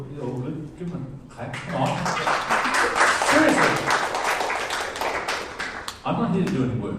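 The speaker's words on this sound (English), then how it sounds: "Give him a clap." An audience claps during a convention panel on old noir film, with talk at the start, a swell of applause through the middle that fades, then speech resumes at the end.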